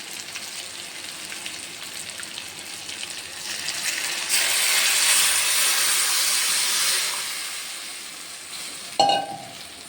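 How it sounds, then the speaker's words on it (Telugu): Tamarind juice poured into a pan of frying bitter gourd sets off a loud, broad hiss of sizzle and steam that swells for a few seconds, then eases off, with a brief metallic clink near the end. "ఇప్పుడు చింతపండు పులుసు వేసుకుందాం."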